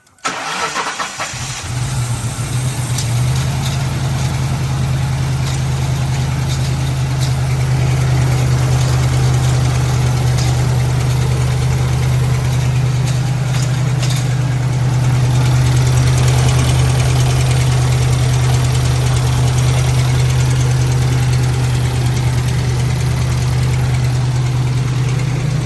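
A Lincoln Town Car engine catches and then runs steadily, loud and close, with a low rough idle and a knocking undertone that continues throughout, no voices.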